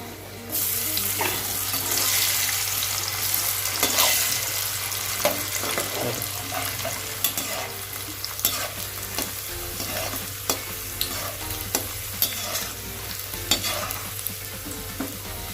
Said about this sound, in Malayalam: അണ്ടിപ്പരിപ്പ് വറുത്ത് തന്നിട്ടുണ്ട് അതിൻ്റെ കൂടെ നമുക്ക് റൈസിൻസ് ആഡ് ചെയ്യാം